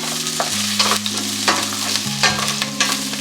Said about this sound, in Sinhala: ඊළඟට කුරු සූදුරු ටික දැන් මේක හොඳට තෙලේ මේ විදිහට බෙදෙන්න අරිනවා